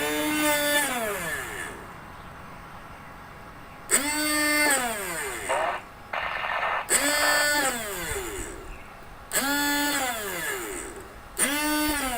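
A hand drill mounted in a drill press stand repeatedly spins up and winds down in several separate bursts of a few seconds each while drilling a workpiece, its whine rising and falling in pitch.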